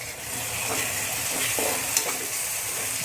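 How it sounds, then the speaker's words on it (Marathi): Finely chopped medium tomato frying with ginger and garlic in oil for chicken leg masala, a steady loud sizzle with faint stirring scrapes and one short clink. "आता त्याच्यामध्ये एक मीडियम आकाराचा टोमॅटो अगदी बारीक चिरलेला आपल्याला फ्राय करून घ्यायचा आहे"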